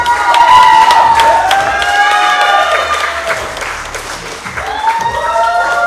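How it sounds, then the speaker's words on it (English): A wrestling crowd at a NEBULA Wrestling championship match cheers and applauds loudly and steadily, with shouts and whoops rising over continuous clapping throughout. "The crowd are in awe and they are loving Man Like Dereiss."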